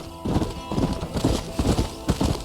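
Horse hooves clip-clop steadily along a dirt road in Red Dead Redemption, a close, even trotting rhythm with faint background ambience and no talk.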